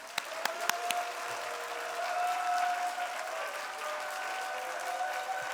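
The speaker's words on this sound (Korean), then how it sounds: "큰 박수로 모시겠습니다" Crowd applause at a church youth worship service, a dense patter of clapping that holds steady throughout, with a few sharper claps near the start.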